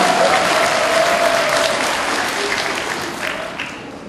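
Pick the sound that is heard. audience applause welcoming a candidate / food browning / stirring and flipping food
audience applause welcoming a candidate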